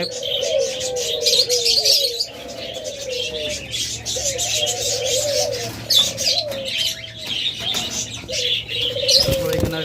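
Master breeding pairs of pigeons in an enclosure with eggs give repeated, rolling coos close by, mixed with chirps from other birds and brief wing flaps, and no speech.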